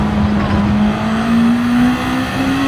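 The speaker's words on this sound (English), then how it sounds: "First time we're going to be driving a Group 2 in GT7." Group 2 race car driven in Gran Turismo 7, a steady loud engine drone holding near-constant pitch with a slight rise late on, continuous and close.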